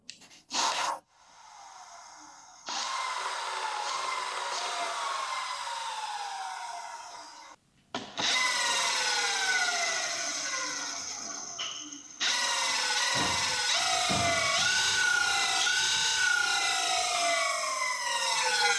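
An electric scooter hub motor whirs in rising and falling whines, spinning in reverse, stopping and restarting a few times, with clicks and a steady electric hum close by.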